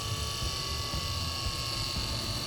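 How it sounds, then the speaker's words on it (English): ABS pump on a 2016–2023 Toyota Tacoma TRD Off-Road or Pro running with the ignition on during brake bleeding, a steady mechanical whir and buzz holding level throughout with no talk. "You need to run the ABS pump until it stops."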